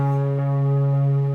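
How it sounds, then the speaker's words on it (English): A single electric guitar note played through overdrive, delay and reverb for a worship-style lead tone rings out steady and sustained, with a soft swell of wet ambience near the end. "if I play a single note"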